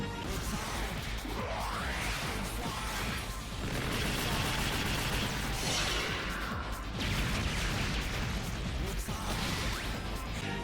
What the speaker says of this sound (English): here's the only other time we get to see the Heavy Arms fire all of its ammunition